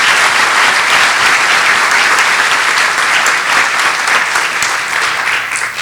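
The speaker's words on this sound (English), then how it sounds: "Big hand of applause for them" Loud, sustained applause from an audience at a college presidential inauguration ceremony, a dense steady wash of many hands clapping that holds for several seconds and tapers slightly at the end.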